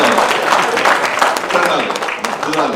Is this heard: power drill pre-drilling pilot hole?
no